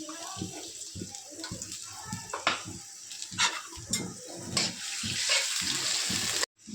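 Onions and cumin seeds sizzle in hot oil for a crab bhuna, a steady frying hiss with clattering of utensils and a spoon scraping the pan, close by with no talk.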